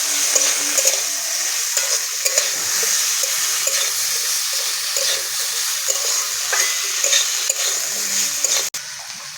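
Tomato, five torn green chillies and ground ginger hit a hot pan of spices for a lentil dish, giving a loud, steady sizzle and hiss with faint stirring scrapes throughout.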